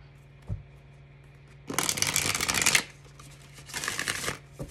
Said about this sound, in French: On va faire un tirage à 9 cartes comme on a fait le mois dernier et le mois précédent